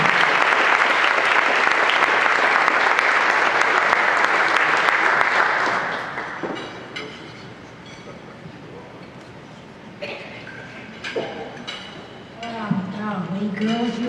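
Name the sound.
audience applause welcoming Susie Maxwell Berning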